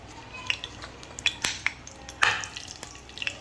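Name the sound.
mustard seeds sizzling in hot oil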